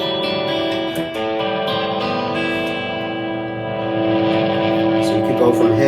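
Electric guitar played through a Donner Dark Horizon distortion pedal, with sustained chords and separated notes ringing in a steady, fairly loud, open-sounding tone with no talking.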